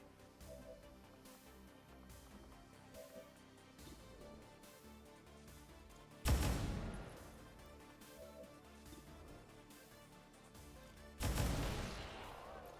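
Focus-fire gunfire in the strategy game XCOM 2 with the Long War of the Chosen mod: two loud, sharp shot bursts with long decaying tails stand out over a steady bed of game music and ambience.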